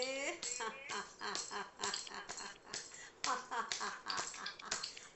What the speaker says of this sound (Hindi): चलिए ढोलक ताली बजा देते हैं हंसते हंसते।